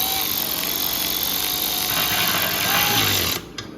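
A power tool runs continuously as it snugs the oil pan bolts on a 1963 Studebaker Lark, a loud close whirring buzz that cuts off near the end.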